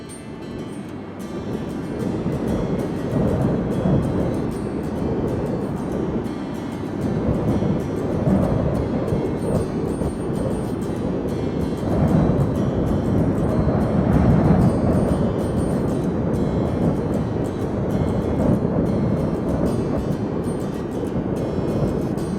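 Blizzard wind roaring at the top of a mountain near Zermatt, Switzerland, a loud, continuous buffeting rush with no letup.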